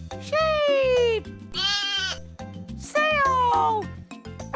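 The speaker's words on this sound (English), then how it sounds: "Sheep!" Cartoon sheep in a toddler learning animation give three loud, wavering bleats over a light, bouncy backing track.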